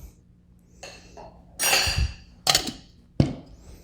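A chilled cocktail glass is handled in a bar setting, with a few sharp clinks and knocks separated by soft rustling and shuffling, close and fairly loud.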